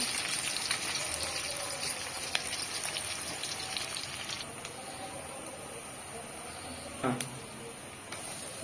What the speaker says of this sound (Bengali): তেল গরম হয়ে যাবে, পেঁয়াজ একটু ভাজবেন